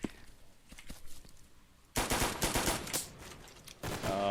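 Glock 18 pistol in the shooter game BRAIN / OUT fires rapid bursts of shots, starting with sparse faint pops and then loud, dense crackling volleys from about two seconds on, with a brief pause before a final burst.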